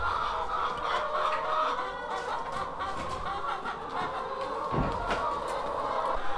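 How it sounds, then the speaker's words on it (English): Loose backyard chickens cluck nearby in a garden, a busy continuous chorus of clucks and murmurs with a few louder calls standing out. "How'd all these chickens get out? Somehow all the chickens got out."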